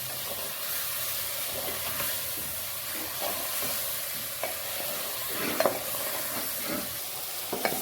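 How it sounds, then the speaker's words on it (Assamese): Potatoes and spices stirred and frying in a pan while biryani is prepared, giving a steady sizzle throughout with occasional light scraping clicks from the stirring utensil; no one speaks. "ইয়াৰ পিছত এয়া মিক্স কৰি আছোঁ, অকণমান ভজা হোৱালৈকে দিম।"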